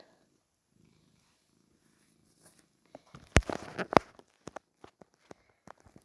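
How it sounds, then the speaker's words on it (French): A cat purrs faintly and close by, a low soft rumble under scattered rustling and tapping handling noises that grow busier midway. "Pistache ronronne, je sais pas si vous avez entendu ronronner."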